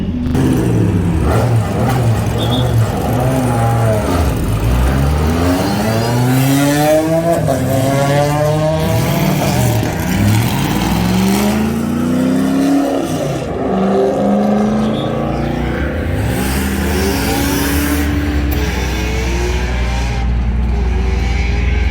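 A K20-swapped Honda Civic EG makes repeated hard acceleration pulls, the engine loud and close, climbing through the revs with shifts between sweeps under constant road roar.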